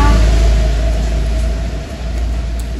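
Steady road traffic rumble from a busy main road beside a village, a loud continuous low drone with passing vehicle noise and no break.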